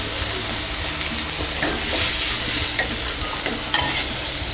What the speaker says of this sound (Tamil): அதை வெஜிடபிள்ஸ் எல்லாம் கொஞ்சம் வணங்கட்டும்